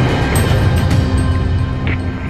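Strong wind buffets a microphone on a fishing trip, a steady broadband roar with gusty rumble throughout, loud and continuous with no voices.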